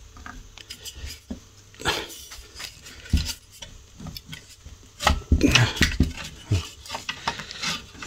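A screwdriver scrapes and clicks against a stubborn nut on a 1938 STC 830 radio, irregular metallic taps and grinding bursts up close, with a cluster of louder knocks midway.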